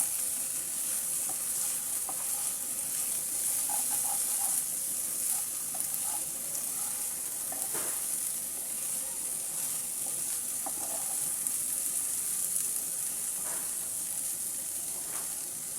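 Bottle gourd peel and potato bhaji frying in a pan, a steady close sizzle lasting throughout with occasional light spatula taps and scrapes, no voices.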